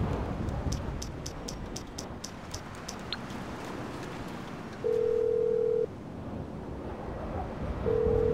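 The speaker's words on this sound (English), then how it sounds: "Let's call up a payphone hit." Payphone call in GTA 5 Online: a run of short ring pulses, then a steady dial-type tone that sounds twice, all over a washing background of wind and surf.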